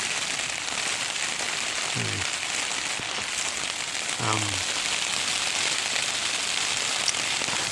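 Heavy rain pours steadily on a roadside mountain camp during a thunderstorm, a dense constant hiss throughout with two brief low voice-like sounds partway through.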